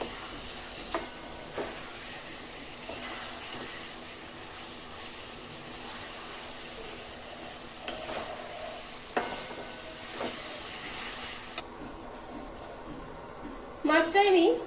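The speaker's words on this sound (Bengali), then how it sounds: "মাছটা দিয়ে একটু মশলার সাথে কষিয়ে নেব।" Fish fry in a spice paste in a pan with a faint steady sizzle, scattered stirring knocks and a louder clatter at the end, while a person talks.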